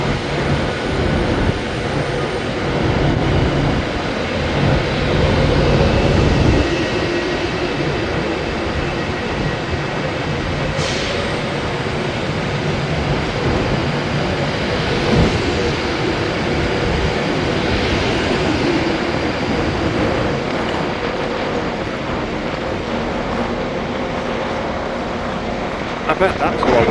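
A passenger train rumbles through Preston station, England, a long, steady, heavy roar with rattling wheels that hardly lets up.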